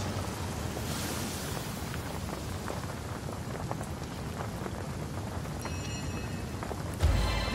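Steady, dense rain from a spell cast in the video game Divinity: Original Sin, a continuous patter on surfaces throughout, loud and close, with a louder splash near the end.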